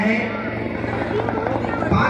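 A helicopter arriving at a public event, its steady droning rotor hum heard close and loud under continuous speech.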